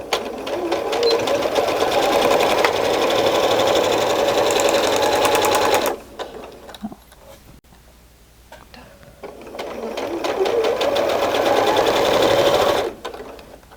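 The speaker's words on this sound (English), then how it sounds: "we're just gonna sew in this divot right here. Just a straight stitch" Sewing machine running a straight stitch, a fast steady mechanical rattle for about six seconds, a brief pause with faint handling noises, then a second run of stitching.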